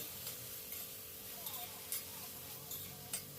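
Onion and eggplant frying in a spiced tempering, giving a faint, steady background sizzle with a few soft clicks of stirring.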